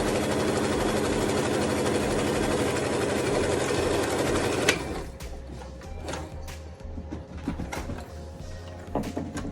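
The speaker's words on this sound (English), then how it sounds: "I'm just gonna sew those 2 together at the top edge, all the way down" Sewing machine stitching two fabric face mask pieces together along the top edge, a loud steady motor run for about five seconds before it stops and gives way to quieter handling sounds.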